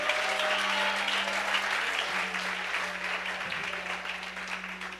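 A church congregation applauds together, a continuous dense wash of clapping that holds steady for several seconds with a faint tone running underneath.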